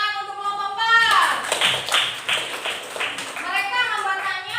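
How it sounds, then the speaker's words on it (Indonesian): Classroom students clap for group 4 during a lesson on bullying, a burst of quick hand claps from a small group breaking in after a short spoken line, with voices and chatter around the clapping. "Tepuk tangan untuk kelompok 4."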